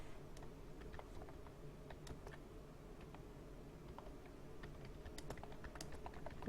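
Quick, light keystrokes tap on a computer keyboard as data goes into an Excel spreadsheet, an irregular patter of clicks with short bursts and pauses, close but faint, with no talk.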